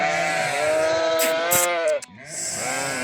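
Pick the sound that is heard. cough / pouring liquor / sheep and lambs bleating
sheep and lambs bleating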